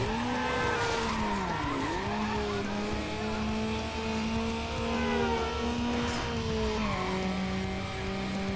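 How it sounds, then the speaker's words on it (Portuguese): Car engine in the Need for Speed Underground racing game, a steady droning whine that rises and dips in pitch with revving, with tire skids and squeals heard throughout at constant loudness. "o som do carro e tal."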